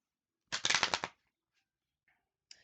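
A deck of tarot cards riffled in one quick, crisp burst of fluttering snaps lasting about half a second, followed by near silence and a single soft tap near the end.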